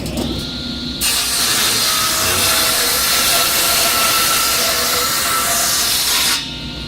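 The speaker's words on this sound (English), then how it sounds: "So I'm going to set it for just about a 30-second over that, and let's cut a curve in this." A table saw rips a curved cut through a wooden board, its blade biting in with a loud, steady hissing whine for about five seconds, then dropping back to the motor's idle hum.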